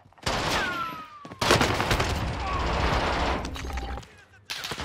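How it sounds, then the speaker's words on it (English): Gunfire in a battle royale Resurgence match, a rapid rattle of shots in bursts broken by brief gaps, with loud crackling reports and a whining ricochet, close and heavy. "I'm getting sniped."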